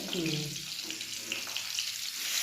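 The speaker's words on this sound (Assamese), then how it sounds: "মাছ ফ্ৰাই হৈ আছে।" Rupchanda fish fries in hot oil, giving a dense, continuous crackling sizzle at close range with no pauses, and no talk over it.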